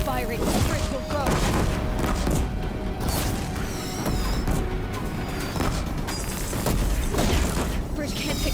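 Deathbringer war machines in Horizon Zero Dawn fire heavy bursts of booming, crashing gunfire mixed with mechanical clatter, loud and continuous under speech.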